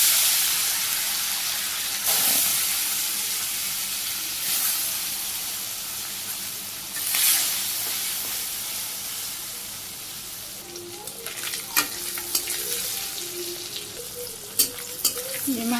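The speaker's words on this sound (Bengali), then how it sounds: "তেলও গরম হয়ে গেছে, মাছগুলো ছেড়ে দিই।" Fish drops into hot oil and fries with a loud, continuous hiss and sizzle, and sharp pops and spatters grow busier toward the end.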